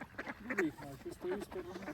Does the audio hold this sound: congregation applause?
no